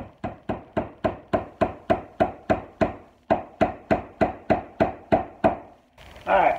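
Steady, evenly spaced hammer strikes driving cable staples outdoors under eaves, about a dozen sharp taps in a row, a short pause, then more, ending in a brief rustle.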